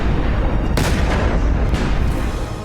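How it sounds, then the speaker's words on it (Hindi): Gas balloons explode with a sudden loud boom that cuts through a dense, continuous wash of crowd and street noise, followed by a few sharper bursts. "गुब्बारों में धमाका होते ही अफरा तफरी मच गई।"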